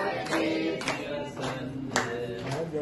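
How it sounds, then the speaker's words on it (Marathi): A small group clapping loosely at a birthday celebration, a handful of scattered claps against a murmur of voices, soft and slightly distant. "टाळ्या तरी वाजवा."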